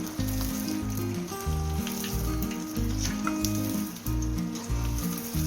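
Paneer koftas fry in a pan of hot oil with a dense, continuous sizzle and occasional soft turning and stirring sounds, loud and close with no talking.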